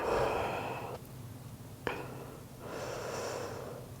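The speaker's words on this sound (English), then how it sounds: "And breathe." Breathing during a held yoga pose in a hatha yoga session, a soft inhale then a slow airy exhale, close and quiet, with a brief click between breaths.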